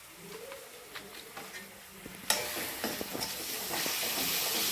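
Soy sauce hits fried rice frying in a pan, setting off a sudden loud burst of sizzling hiss that stays steady, with scraping stirring noises heard before and through it.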